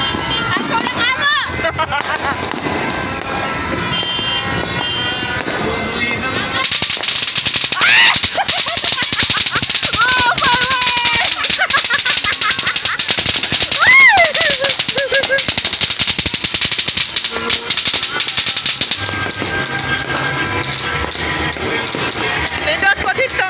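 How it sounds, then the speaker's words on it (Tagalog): New Year fireworks burst in Cebu in rapid crackling volleys and booms, with whistling rockets rising at intervals, under continuous crowd chatter and people talking nearby. "Kanindot kay mga fireworks."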